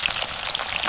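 Potatoes frying in a pan on a camp stove inside a hot tent in a snowy winter woodland, a steady close sizzle with crackling pops throughout the short moment.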